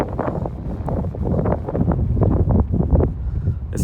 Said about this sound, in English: Let me pause for the wind.